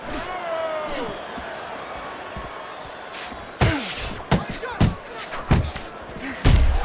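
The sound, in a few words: boxing punches landing in video game Fight Night Champion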